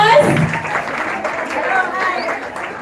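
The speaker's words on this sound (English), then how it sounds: "Give him a round of applause" Students at a Heritage Day school assembly give a round of applause, a burst of clapping and crowd murmur that tapers off, with voices chattering underneath.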